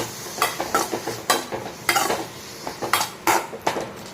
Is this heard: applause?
no